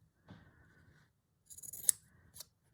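Dressmaking scissors cut through check fabric in a few quiet, close snips, with a short pause between the first cut and a brief cluster of sharper blade closes.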